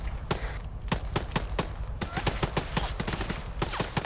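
Rapid gunfire in the Arma 3 video game, with rockets aimed at a tower: dense bursts of sharp, loud shots crackle and echo in quick succession, with many overlapping reports throughout and no pauses.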